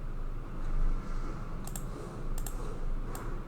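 A few quick, sharp computer mouse clicks, close and clear, in two or three short clusters over a low steady room hum.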